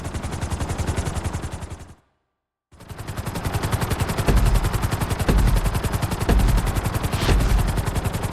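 A helicopter in the video game Grand Theft Auto V gives a loud, steady rotor chop with rapid, even thumping, broken once by a brief silence before the beating resumes just as strong.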